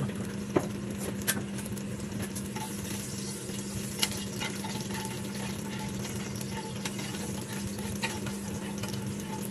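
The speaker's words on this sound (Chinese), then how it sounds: "先倒啲油，再加少少鹽。 爆香个蒜米先，" Garlic crackles in hot salted oil in a home kitchen, a steady sizzle marked by scattered sharp pops and light clinks throughout, close and even in level with no talking.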